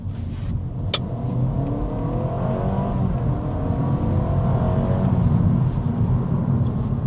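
A 2025 Honda Civic RS e:HEV hybrid revs up steadily under acceleration in normal mode, a loud continuous drone with rising pitch, heard from inside the car.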